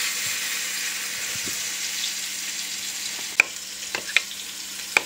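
A fish fries in a pan after cream is added, giving a steady soft sizzle throughout, with a few sharp clicks and clinks of utensils near the end and no talking.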